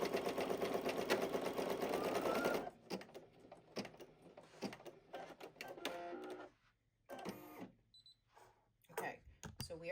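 Computerized embroidery machine stitching a heat transfer vinyl applique using the ripaway technique, a dense mechanical whirring and rattling at first, then stopping into quieter intermittent clicks and small thumps close by.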